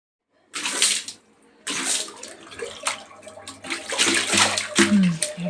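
Water is poured and splashed for washing during household chores, coming in several uneven gushing bursts with short pauses between, fairly close and loud, with no one talking.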